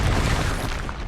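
In Hogwarts Legacy, an Expulso spell blast erupts as a heavy, close explosion, booming at full force and then easing off slightly across a single short burst.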